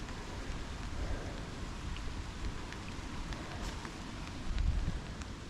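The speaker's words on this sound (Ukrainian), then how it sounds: "І не тепло, і не холодно, але виходить, що дощ." Steady rain falls outdoors on a summer motorcycle trip through the Alps, a dense, even hiss of drops hitting surfaces close by, with a slightly heavier gust near the end and no voices.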